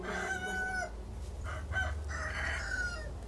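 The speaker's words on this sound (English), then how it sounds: "the rooster is starting to really annoy me" A rooster crows in the game Sekiro, two long, drawn-out calls at moderate volume over a low, steady ambient rumble.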